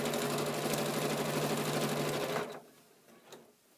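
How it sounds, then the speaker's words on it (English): A sewing machine stitches over fabric at a window opening, a fast, even mechanical whir and rapid needle patter that runs steadily, then stops abruptly, leaving faint clicks and handling noise. "Your sewing machine may have a little bit different sound as it sews over that window opening"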